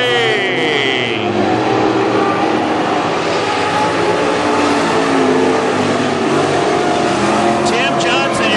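Race cars roar away together at the green flag of a heat race at Granite City Speedway, a loud, dense engine drone sustained throughout with a crowd-like wash, and a voice talks over it.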